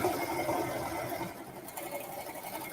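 A serger whirs through pajama fabric in a steady, fast mechanical hum with rapid stitching chatter, close and moderately loud, running continuously before easing slightly.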